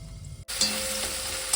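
Onion fries in a pan with a steady, close sizzle that starts suddenly after a brief silence and carries on evenly to the end.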